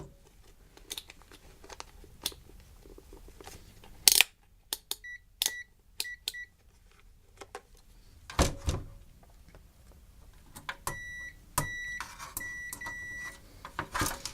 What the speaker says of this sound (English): If you guys hear beeping, then you know it's connected.